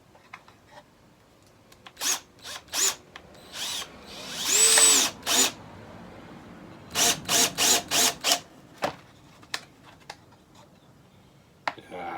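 A power drill drives screws into a junk-built guitar in a series of short whirring bursts, a few longer and several quick ones in a row, close and fairly loud.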